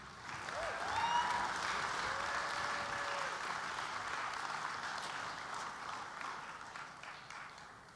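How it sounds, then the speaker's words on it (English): An audience at a national cosplay championship keeps up a round of applause while a contestant poses on stage, a sustained wash of clapping with a few faint tonal sounds rising above it, moderately distant and fairly quiet. "Let's keep the round of applause going while she does some more of those wonderful poses"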